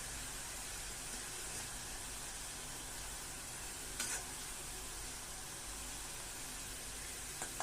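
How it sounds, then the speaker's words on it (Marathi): Potato pieces fry in oil for sabudana chivda, a faint, even hiss of bubbling with occasional small clicks, steady from start to finish. "बटाटा पण फ्राय करून घ्यायचा आहे।"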